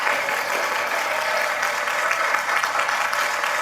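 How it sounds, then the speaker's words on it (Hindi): Loud, sustained audience applause fills a stand-up comedy show, dense and continuous with no distinct individual claps, as a broad wash of many hands clapping together. "अब अपने लिए तालियां बजा दें"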